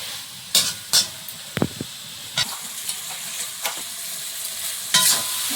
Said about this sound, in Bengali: মশলার সঙ্গে চিংড়িটা ভাজা হয়েছে